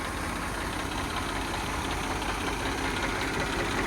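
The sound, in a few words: Eicher 333 tractor engine idling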